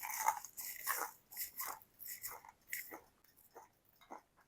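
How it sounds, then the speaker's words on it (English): Bites into crispy oven-baked fish sticks give a run of close, dry crunches, about six or seven bursts in an uneven chewing rhythm that fade toward the end, with no talking. "Listen to that crunch."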